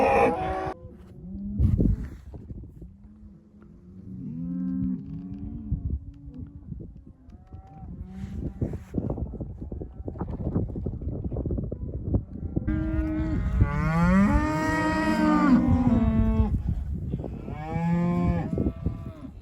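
Cattle mooing and bellowing during a forest gather on a ranch, several animals calling in overlapping low drawn-out moos, some near and loud and others farther off, continuous over outdoor background noise with no talk.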